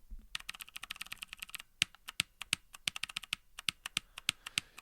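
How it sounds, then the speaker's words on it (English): Rapid clicky keystrokes on a computer keyboard, a burst of fast crisp taps followed by a more irregular run of sharp clicks, heard close and alone. "When I'm like clickety-clacking on my keyboard"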